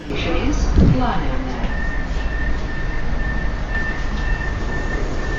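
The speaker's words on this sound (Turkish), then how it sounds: "Ama metro istasyonlarının içerisi de tren gelir giderken yine çok gürültülü." A metro train rumbles loudly through a Moscow station, with a steady high squeal of wheels on rails and a brief voice early on.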